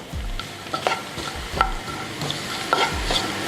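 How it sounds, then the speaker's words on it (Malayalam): Cashews and raisins roast in ghee, giving a close, lively sizzle broken by repeated scraping and clinking of a spoon against the pan, with no one talking. "ഇതൊന്ന് നെയ്യിൽ വരട്ടിയെടുക്കണം"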